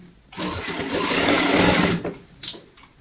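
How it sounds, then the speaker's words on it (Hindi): An electric sewing machine stitches cloth for a fabric snake in one fast, steady run of about a second and a half, then stops, followed by a short clack. "तो हम यहाँ से सिलाई की शुरुआत करेंगे।"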